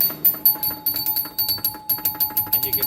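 Chime unit on a restored Mata Hari pinball machine ringing in quick succession, a string of bright bell tones struck roughly every fifth of a second, close and fairly loud over a steady background hum.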